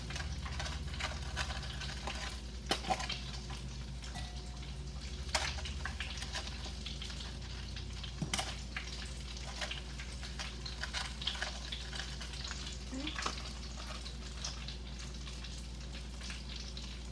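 Donut holes fry in hot oil with a steady, faint bubbling sizzle throughout, broken by a few sharp crackles and pops, with no talking.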